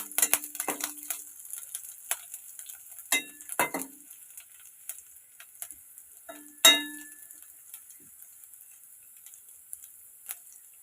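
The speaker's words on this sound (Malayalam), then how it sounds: "വെളുത്തുള്ളിയും ഇഞ്ചിയും നന്നായി മൂത്ത് വരുമ്പോൾ അതിലേക്ക് കറിവേപ്പിലയും ചേർത്ത്" Garlic, ginger and curry leaves sautéing in a pan for a star fruit pickle, a steady sizzle with sharp clangs and ticks of a spoon stirring against the metal, close and with no talk.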